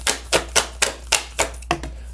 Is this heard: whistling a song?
no